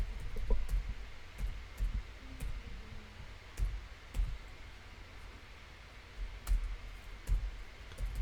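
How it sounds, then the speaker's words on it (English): An email address is typed on a computer keyboard with a run of soft, irregular key clicks over a rustling background. "I'm going to type in my email address"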